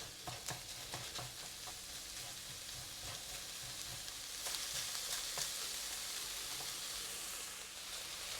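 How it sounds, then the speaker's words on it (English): Minced pork sizzling and crackling in a hot pan while stir-frying, a steady bright hiss with occasional scraping taps from stirring, close up and continuous. "Love the sizzling sound."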